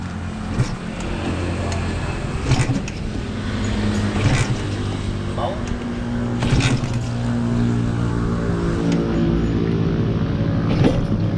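A customized Honda LS125 motorcycle engine runs close by, with a few sharp throttle blips rising above a steady idle.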